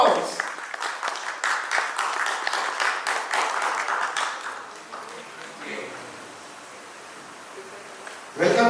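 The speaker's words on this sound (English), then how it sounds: "Please give a big round of applause." Audience at a Toastmasters milestone meeting applauds in a steady, moderately loud burst for about four seconds, then the clapping thins out and fades into a quiet room.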